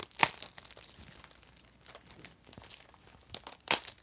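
Blu-ray packaging for the two-disc release of Virgins from Hell crinkles and crunches during an unboxing, with two sharp crackling bursts near the start and end and quieter rustling between.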